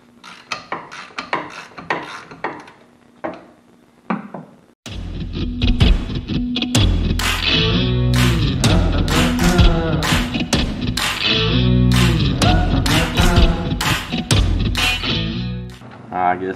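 A ratchet clicks in quick close bursts while loosening the 15 mm brake caliper bolts on a 2004 Buick LeSabre, followed by a louder, sustained run of grinding, rasping mechanical noise.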